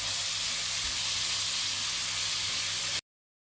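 Tomato sauce and chili harissa sizzling in a pan while being stirred, a steady close hiss of frying with faint low clatter, cutting off abruptly into silence after about three seconds.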